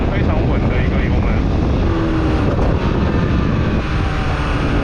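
A four-cylinder, over-100-horsepower mid-displacement sport motorcycle engine holds a steady, loud, throaty drone under throttle, close and continuous throughout.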